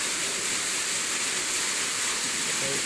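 Water gushes from three large pipes down into a well being recharged, giving a steady, dense, loud rushing roar that continues unbroken and close by, with no voices.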